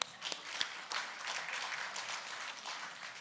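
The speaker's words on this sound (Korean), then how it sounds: "박수 한번 칩시다." Church congregation applauds during a New Year's Eve worship service, a moderate crowd of clappers in a steady wash of hand claps with a few sharper individual claps at the start, heard somewhat distant.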